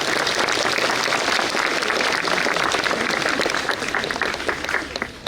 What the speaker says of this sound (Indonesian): tepuk tangan untuk para alumni